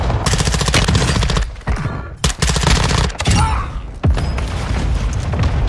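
Rapid automatic gunfire in Warzone 2, the Call of Duty battle royale, rattling loud and close in sustained bursts with short gaps, mixed with game effects.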